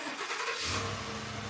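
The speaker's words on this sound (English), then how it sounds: "Family's leaving, so starting the car." A family car's engine cranks and catches, then settles into a steady, loud running rumble close by, with no talk over it.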